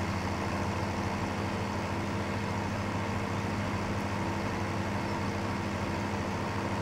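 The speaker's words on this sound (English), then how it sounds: "when I take my foot off the accelerator coming down a hill, you can really hear the engine note different with the more realistic enabled" Tractor engine in Farming Simulator 17 coasting downhill off the throttle, a steady continuous low droning engine note with no talk.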